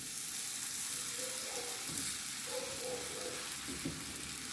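Roti frying in a pan, Cape Malay style, sizzles with a steady broad hiss, close up, with a few faint scraping and stirring touches.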